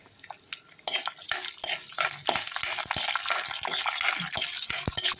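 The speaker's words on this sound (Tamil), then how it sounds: "எண்ணெய் ஊற்றியாச்சுங்க அதில் பருப்பு போட்டுப்போம் கொள்ளு போட்டுக்கலாம் நல்லா வறுப்படட்டும் ரெண்டும்" Urad dal and horse gram stirred in hot oil in a pan, a run of scraping and clattering spoon strokes against the metal, with a soft sizzle underneath, close and fairly loud.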